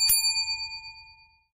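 A single bright notification bell ding, struck once and ringing out with a clean metallic tone that decays smoothly over about a second and a half, alone with no talk.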